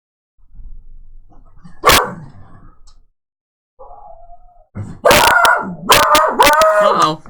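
A dog barks once sharply, then after a pause lets out a run of loud, drawn-out howling barks and yelps close by, with a brief faint whine between them.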